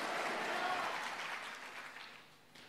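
A church congregation at an online worship service breaks into applause, a dense wash of clapping that gradually fades out.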